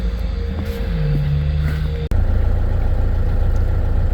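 A car engine running while driving home, a steady low rumble with a rising whine in the first half, a brief dropout near the middle, then continuous engine and road noise.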